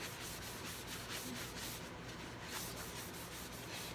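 Paper towels wipe a tumbler cup clean with continuous close-up rubbing and scrubbing, a steady papery friction with no talking.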